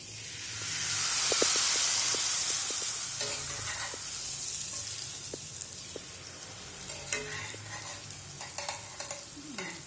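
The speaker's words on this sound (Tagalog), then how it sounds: "Ang pagluto ko nito ay pina-fried ko lang." Thin sliced cassava chips frying in hot oil, a loud bubbling sizzle that gradually settles, with occasional stirring clinks and scrapes.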